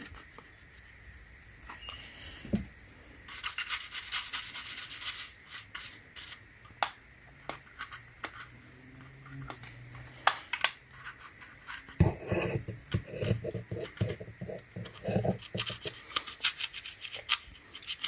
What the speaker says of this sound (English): So make sure you come back and then rub it.